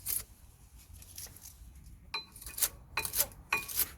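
A wire brush scrubs the brake pad slots on the front brake of a 2016 Toyota Verso 1.8. Short, quiet, scratchy strokes come close up in a few uneven bursts.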